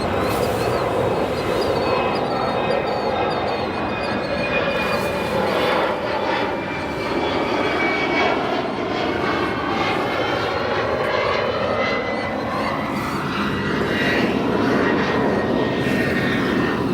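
An Aer Lingus Airbus A330-300 bound for Dublin at O'Hare Airport gives off a steady, loud jet engine roar that holds for the whole stretch, with no voices.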